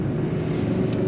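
A Chevrolet Camaro ZL1 engine drones steadily while driving, a loud continuous low rumble heard from inside the car with no pauses.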